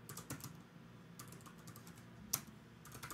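Typing on a Mac computer keyboard, entering a date into a Pages document: a steady run of light key clicks with one sharper keystroke near the end, fairly close and quiet with no talk.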